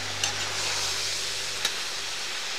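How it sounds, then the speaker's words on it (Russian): Onions and meat fry in a cauldron over an open fire, a quiet steady sizzle with a couple of sharp scraping stirs from a utensil, no talking. "На этом этапе добавляем лук, порезанный полукольцем. Перемешиваем. Ну, жарим"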